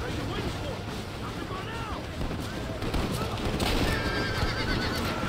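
Horse neighing in the Western video game Red Dead Redemption, several whinnies over hoof clatter and game noise, with gunfire-like bursts in the mix.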